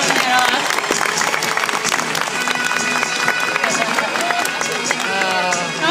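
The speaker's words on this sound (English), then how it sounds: "give her a big round of applause for showing that off" A zoo crowd at a sea lion show at the Minnesota Zoo claps steadily in a sustained round of applause, with cheering and crowd noise mixed in and a voice faintly audible underneath.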